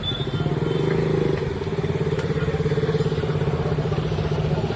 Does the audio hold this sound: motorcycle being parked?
yes